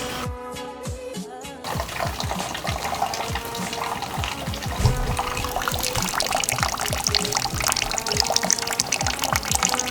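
Coolant draining out of an Audi A4 1.8T after a flush, a steady close pouring and splashing of liquid that runs continuously, following a brief mechanical clatter at the start.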